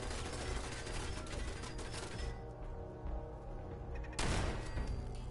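Rapid automatic turret gunfire in Fallout 4 rattles in dense bursts, cuts out briefly, then resumes loud and close.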